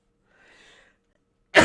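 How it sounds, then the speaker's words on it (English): One sharp, loud cough bursts out at the very end, after a faint breathy rustle, and is cut off abruptly. "Do apologise for all the coughing."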